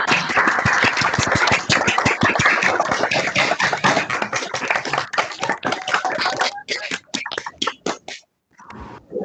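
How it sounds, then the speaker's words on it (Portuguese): Participants in an online colloquium clap over open microphones, a dense, uneven patter of many hands that thins into scattered separate claps before stopping, with a voice briefly present. "a gente abrisse os microfones para bater palmas para a Nádia"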